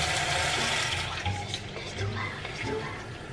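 Water runs from a tap into a bowl, a steady splashing rush that fades slightly toward the end, with a voice briefly audible.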